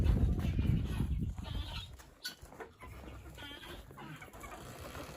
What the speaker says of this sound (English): Here's my favorite little guy, Vinny, a little Bantam rooster